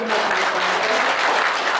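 Loud, dense audience applause, many hands clapping together continuously throughout.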